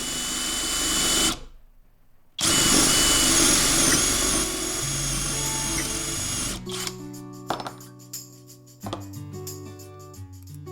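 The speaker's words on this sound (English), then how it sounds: "First up, the biggest, dullest, and most abused drill bit of the bunch." A large, badly worn drill bit, resharpened on a Parkside PBSG 95 G6 sharpener, bores into wood. Steady grinding whir for about a second, a short pause, then several more seconds of drilling before quieter clattering tones take over.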